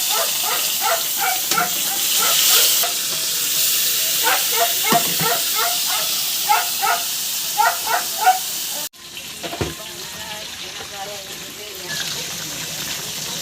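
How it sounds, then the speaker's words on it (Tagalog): Flying fish frying in a pan makes a loud, steady hiss of spattering oil. Short rhythmic barks from a dog sound nearby, and the sizzle drops sharply partway through before continuing more softly. "Piprito naman natin dito yung isda"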